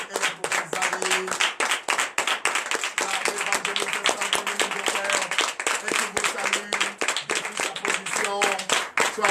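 A church congregation at a Sunday service in Comè, Benin claps loudly and rhythmically, hands striking in fast bursts while voices and music-like tones run underneath throughout.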